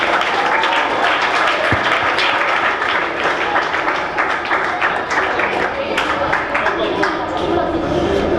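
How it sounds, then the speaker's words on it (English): Audience at a high school special program applauding, a dense steady wash of many hands clapping that fills the whole stretch at full loudness, with voices mixed in. "Give a huge round of applause."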